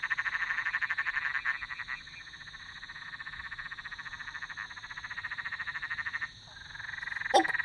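A big fat frog sitting partly submerged in water gives repeated pebbly bonk calls, loud and close, over a steady chorus of other croaking frogs that runs throughout.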